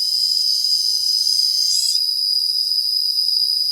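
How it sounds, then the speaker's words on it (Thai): Loud, continuous high-pitched cicada buzzing drones on without a break, a dense shrill chorus with nothing else beneath it. "อยู่ในกล้องนี่ก็จะได้ยินแต่เสียงจักจั่น"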